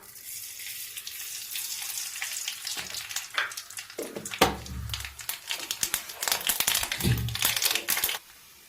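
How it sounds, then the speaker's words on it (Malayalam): Mustard seeds spluttering in hot coconut oil in a pan, a dense sizzle breaking into sharp, rapid popping and crackling that grows louder and busier before stopping abruptly. "നമുക്കൊരു ഞുള്ളി കടുവിടാം."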